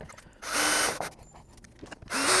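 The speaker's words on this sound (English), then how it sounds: "you're going to take the two silver screws. You'll see two holes to the side of the tailpiece. Go ahead and screw those in." A power screwdriver drives two silver screws into a fingerprint smart door lock assembly beside the tailpiece, in two short whirring bursts with quiet handling noises between them.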